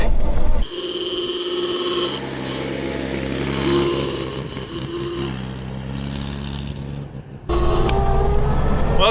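A 100-year-old Packard car engine runs steadily with a low, tonal hum and a slight rise and fall in pitch, with a brief drop in the middle of the running before it resumes loudly.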